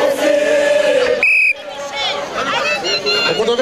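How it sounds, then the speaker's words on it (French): A crowd at a Hercules strongman championship cheers and shouts for a competitor, with loud chatter, a sharp whistle-like cry in the middle, and continuous close crowd noise throughout. "Applaudissements pour lui."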